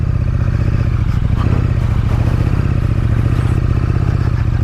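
A KTM Super Duke motorcycle riding over rutted ground, its engine droning steadily and loudly up close while the chassis clatters and scrapes over the bumps, with no talk.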